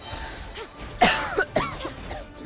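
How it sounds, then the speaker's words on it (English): A single sharp cough bursts out close to the microphone, followed by a couple of smaller throat-clearing coughs, with no talk. "I coughed."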